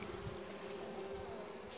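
Honey bees buzz steadily around a weak hive opened for inspection, a continuous close droning hum with no voices.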